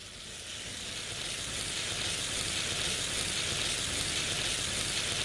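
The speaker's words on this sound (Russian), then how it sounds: "И вот уже вторая сторона жарится." Tofu frying in a pan in a Chinese kitchen, giving a continuous even hiss and crackle of hot oil, close and steady with no talk.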